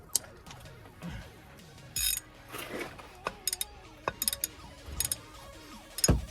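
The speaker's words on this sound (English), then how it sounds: "So we're just using the long 1/2" drive US Pro ratchet." A long 1/2-inch drive US Pro ratchet works loose a brake bolt on a Ford Focus, giving a scatter of sharp clicks and clunks with short gaps, close and fairly quiet.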